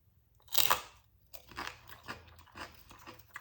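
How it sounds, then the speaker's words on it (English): A single crisp bite into a crunchy gluten-free red lentil bun, loud and close, followed by several softer crunching chews at an uneven pace with no voices. "Such good crunch."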